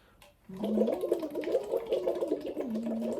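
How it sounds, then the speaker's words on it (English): Air blown through a voice straw into water makes a steady, close bubbling burble that starts abruptly and continues evenly, with a pitched, wavering hum running through it. "my goal is to make sure that I have a steady stream of bubbles that are going"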